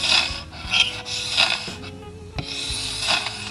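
Hand scraper drawn repeatedly across cross scratches on a wood floor, a close rough rasping in several strokes with brief pauses between them and no talk.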